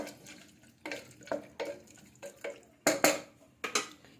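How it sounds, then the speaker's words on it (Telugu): Tamarind juice poured into a cooking pot and stirred in, heard as faint sloshing with intermittent clinks and scrapes of a utensil against the pot, irregular and close. "నేను చింతపండు రసం పోస్తున్నానండి. చూడండి, చింతపండు రసం వేస్తాను. కొంచెం కలిపెట్టుకోవాలి."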